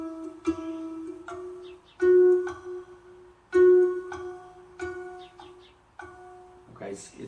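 Notes played as harmonics on a mini-kinnor lyre harp, a handful of clear, ringing bell-like tones plucked one after another with brief decays, close and alone, with a little scraping at the end.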